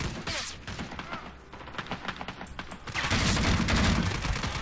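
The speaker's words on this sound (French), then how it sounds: "Ça tire par là, je sais pas sur quoi il tire, mais il tire." Gunfire in the Vietnam war game Rising Storm 2: Vietnam, with rapid overlapping bursts of rifle and machine-gun shots in a sustained fusillade that swells louder near the end.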